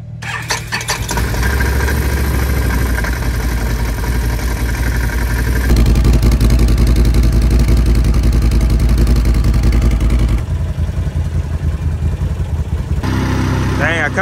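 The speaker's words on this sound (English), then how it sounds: "Cold start on the Renegade." Can-Am Renegade ATV engine cold-starts with a cranking burst and catches into a loud, steady, rumbling idle close by, holding for several seconds before revving slightly and settling.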